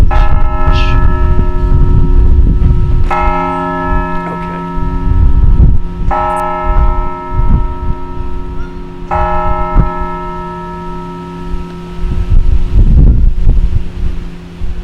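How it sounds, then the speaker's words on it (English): Church bells ring out in several strong, resonant peals, each chime sustaining and overlapping, with a steady low hum and some wind noise underneath. "Is that what the bells are for?"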